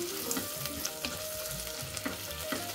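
Onions and a handful of cashews sautéing in a pan for paneer biryani: a steady, close sizzle with a few light stirring scrapes and clinks, no voices.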